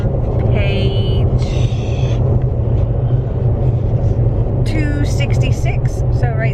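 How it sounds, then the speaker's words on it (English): Steady low road rumble fills the interior of a moving car on a highway trip, with a few faint high chirps over the constant engine and tire drone. "we're in the car. We're on our way to Atlanta"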